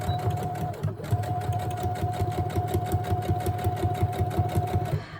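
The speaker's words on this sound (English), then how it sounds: "now we're going to stitch a straight stitch." A sewing machine runs steadily through a straight stitch on a craft tag, a continuous close motor whir with a rapid needle rhythm and a brief pause near the first second, no voices over it.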